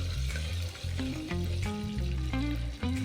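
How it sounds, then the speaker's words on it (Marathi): Crushed garlic sautéing in ghee, a close, steady frying sizzle lasting a few seconds, with low humming tones running underneath. "त्यामध्ये ठेचलेला लसूण, थोडेसे परतून घ्यायचे"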